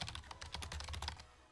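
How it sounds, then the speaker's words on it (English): Rapid keystrokes on a computer keyboard during a typing test, a fast, uneven clatter of close, quiet clicks with no talking. "We're going to start a typing test."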